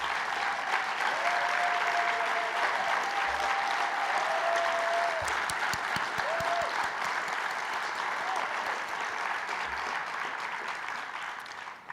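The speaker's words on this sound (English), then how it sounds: "would you please stand so that we can recognize you and give you a round of applause." An audience at a performing arts awards ceremony in New York applauds sponsors with steady, sustained clapping for about twelve seconds, plus a few faint whistles, slowly thinning toward the end.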